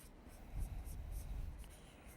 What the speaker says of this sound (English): As I come back in with this dark pencil, I'll add some little details